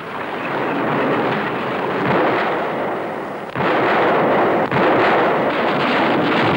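Heavy artillery fire rumbles in sustained, booming waves with sharp percussive onsets, loud and dense, from an archival film about World War II Axis victories in Europe.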